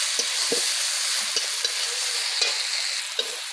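Turmeric and chilli powder spices being fried and stirred in a pan with a splash of water, a bright steady sizzle with a few soft spoon scrapes, close and without talk.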